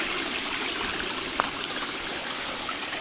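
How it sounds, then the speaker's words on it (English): Spring water running through a series of small pools and little waterfalls, a continuous close hiss and splash of flowing water with one brief brighter splash, no voices. "it's become much more defined now, this series of pools and waterfalls, even down here."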